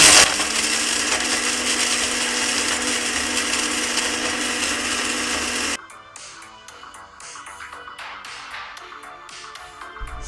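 An electric spice grinder whirs loudly and steadily for nearly six seconds, grinding whole cinnamon sticks, green cardamom, star anise and nutmeg for nihari, then cuts off, leaving spices rattling and tapping as it winds down.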